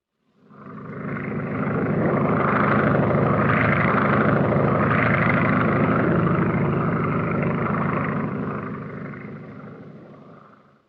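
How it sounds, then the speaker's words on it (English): A propeller airplane circling a globe in the 1927–1936 Universal studio logo gives a steady, rough engine drone that swells in, holds loud for about eight seconds, then fades away, with no talking. "This variant was usually silent except for the airplane flying around the globe"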